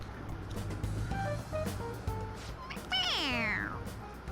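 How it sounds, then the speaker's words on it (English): A toy cat in a video game meows several times when pressed, ending with a long, drawn-out falling meow over a low background hum. "It meows when you press on its head."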